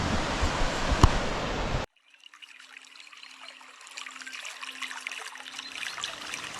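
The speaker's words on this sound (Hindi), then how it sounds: "एक छोटा सा झरना टाइप का है ये" A small waterfall stream trickling beside a wooden bridge on a mountain pilgrimage trail, a steady close rush of water that cuts off abruptly, followed by a fainter, softer trickle with a low hum underneath.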